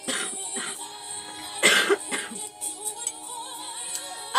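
Several coughs and throat clearings come from a person, with a loud burst in the middle and smaller ones scattered before and after, close to the mic with no speech.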